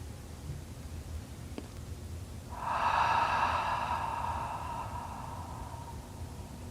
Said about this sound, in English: we're going to take 3 deep breaths, with the exhale being longer than the inhale.